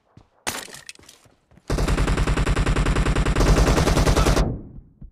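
Gunfire in a BGMI team deathmatch mobile game: a few scattered shots, then a long sustained automatic burst of rapid, evenly spaced loud shots for nearly three seconds before it cuts off.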